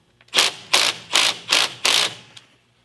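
A ratchet loosens a car seat bolt, giving five close, evenly spaced clicking bursts.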